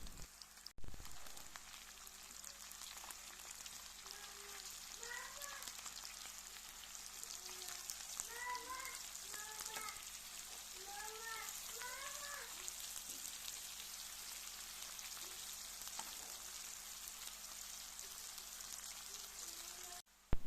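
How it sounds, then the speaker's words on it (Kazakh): Onions fry gently in a pan, a faint, even hiss of oil that runs unbroken and quiet from start to finish. "Пиязды да жақсылап қуырамыз, қатты қызартпаймыз."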